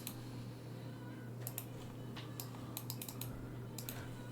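Quick, light typing on a computer keyboard: short bursts of soft key clicks over a steady electrical hum, faint and close, with no talking.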